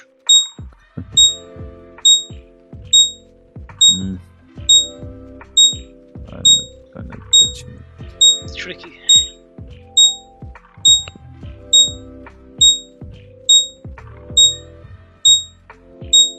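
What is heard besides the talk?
alarm going off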